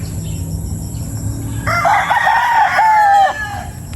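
A class A gamecock stag crows once, a clear, fairly close call lasting under two seconds that rises and then trails off, with quiet farmyard background and no talking.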